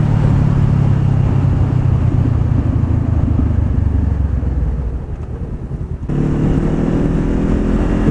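A motorcycle engine drones steadily while riding, its low hum dipping briefly before picking back up at a constant pace.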